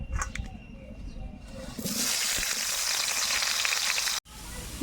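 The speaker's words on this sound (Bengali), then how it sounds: "এবার করলাগুলোকে ভেজে নেবো" Bitter gourd pieces hit hot oil and a broad, steady sizzling hiss swells up after a quieter start, then runs on evenly with only a momentary break near the end.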